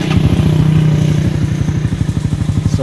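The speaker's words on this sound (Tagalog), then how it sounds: "sound check natin yung ating Supra GTR 150," Honda Supra GTR 150 motorcycle with a modified stock exhaust pipe running close up, a loud, steady, throbbing engine note with rapid regular pulses and a brief rise in revs throughout.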